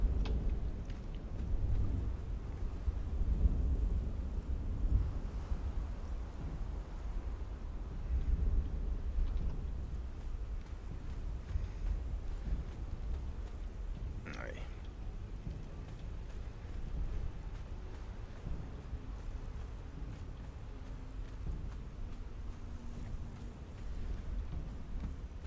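Storm in a video game, with steady rain hissing and deep, rolling thunder rumbles swelling and fading over about twenty-five seconds, plus a brief sharper crack midway.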